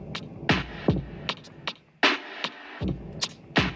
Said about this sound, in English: Now I want to add one more hi-hat just for like a little percussive accent.